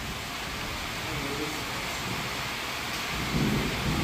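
Rainy, stormy weather with thunder fills the air as a steady, loud rushing wash of rain, with a deeper rumble rising toward the end.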